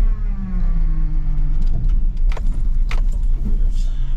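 An old truck rolls down a rough track, its steady engine rumble loud and close alongside rattling, jangling clatter as it bumps over uneven ground, with no talking.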